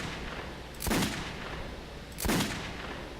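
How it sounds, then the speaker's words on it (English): Two muffled pistol shots from the shooter Metro 2033 sound over a steady background hiss, more than a second apart. Each is a dull, moderately loud thump with a short tail, and nobody talks. "Pistol."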